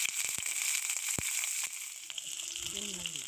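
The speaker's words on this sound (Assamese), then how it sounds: "হাই ফ্লেমত দি পেলাই ভাজি লৈছোঁ" Onions and green chillies frying in hot oil over a high flame for noodles, a steady close sizzle with a few sharp pops, and a voice speaking softly near the end.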